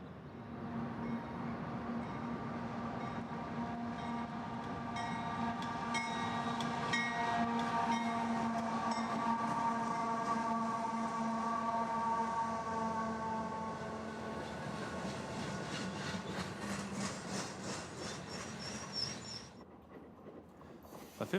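An eastbound unit coal train rolls past near Mojave in the Tehachapi area, a loud continuous rumble with droning diesel tones and wheel noise, holding steady for most of the pass before dropping away abruptly at the end.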